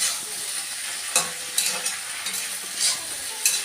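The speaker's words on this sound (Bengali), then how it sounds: "তো আমি এদিকে রান্না বসিয়ে দিয়েছি" Food sizzles steadily in a pan on a home stove, with a constant close frying hiss and a few scraping stirs at irregular intervals.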